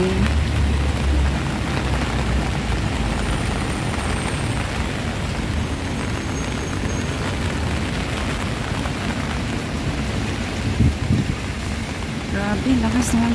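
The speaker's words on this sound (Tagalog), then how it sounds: "Ngayon ay napakalakas ng ulan." Heavy rain pours steadily during a typhoon with signal no. 3 in Tsuen Wan, a dense, loud roar of downpour throughout with occasional gusty booms and a voice speaking over it.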